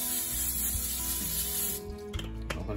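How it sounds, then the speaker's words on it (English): Cooking spray hisses steadily onto a baking pan in a continuous close burst for almost two seconds, then stops, leaving a few light clinks and rustles. "I'll go ahead and spray my pan."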